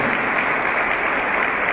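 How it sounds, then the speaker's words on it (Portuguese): Steady, full applause from an assembled audience at a representatives' meeting, welcoming a university professor, continuous and even throughout without pauses. "vamos recebê-lo com uma salva de palmas"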